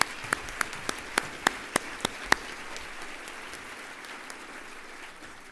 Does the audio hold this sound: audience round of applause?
yes